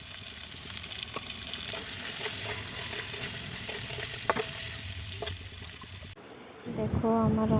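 Dried chillies and panch phoron sizzling and frying in hot oil as a tempering for Bengali sukto, a steady crackling hiss with faint stirring clicks, then a sharper louder burst of sizzle near the end.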